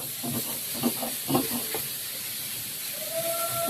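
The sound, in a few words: pangas fish heads frying in oil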